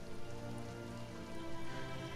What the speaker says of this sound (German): Komm, es regnet draußen, dann trink ein Wässerchen.